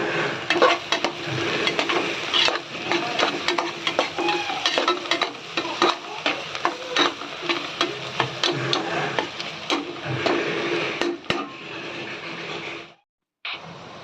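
Sliced onions and slit green chillies sauté in a pan for a beef gravy, a steady sizzle broken by repeated scraping and stirring strokes with a utensil against the pan. It cuts out briefly near the end, then returns.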